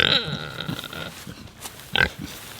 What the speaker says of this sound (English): Pigs are tough.